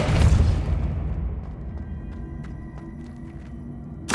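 A Depulso spell in Hogwarts Legacy strikes with a loud, booming burst that decays into a low rumble with faint scattered clinks, then a second sharp blast hits just before the end.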